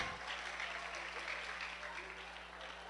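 Classroom students applauding during an etiquette lesson, a soft, dense wash of clapping that holds steady throughout, fairly faint and distant with a low hum underneath.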